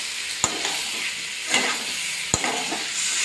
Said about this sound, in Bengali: আলুগুলো দিয়ে নুন দিয়ে দিয়েছি, আপনারা তো দেখেছেন। কিছুক্ষণ ধরে কষিয়ে নিচ্ছি।